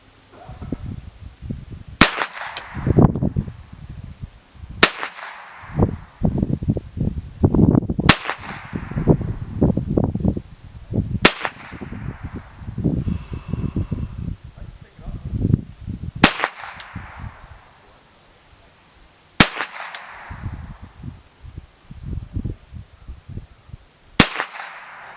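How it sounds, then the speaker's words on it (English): Shots from an RIA M22 rifle fired off a rear bag, a sharp crack roughly every three seconds, each followed by quieter shuffling and handling noise between rounds, with no talk. "I'm going to try shooting this just off of a rear bag here and see if I can give the gun a little bit better representation."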